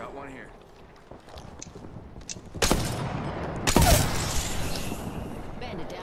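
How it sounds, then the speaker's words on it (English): Gunfire in the video game Apex Legends: scattered shots and rapid bursts ring out over background game noise, with two louder volleys near the middle, while players talk throughout. "who the fuck's shooting on that side?"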